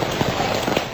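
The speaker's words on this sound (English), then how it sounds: "This relentless rain will only get heavier in many areas" Heavy rain pours down during a flooding storm in Melbourne, a steady broadband hiss of downpour with scattered louder patters and splashes, continuous and fairly loud throughout.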